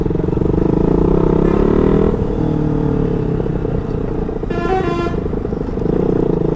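Car and vehicle horns honk in stop-and-go Pune city traffic after a signal changes, with a louder, clearly pitched horn blast standing out near the end over a steady roar of engines.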